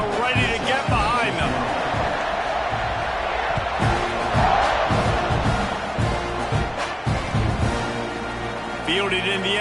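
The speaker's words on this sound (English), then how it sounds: "and this crowd now ready to get behind them" A large college football stadium crowd roars before kickoff in Alabama versus Texas A&M, a dense continuous wall of cheering and yelling heard under a commentator's voice.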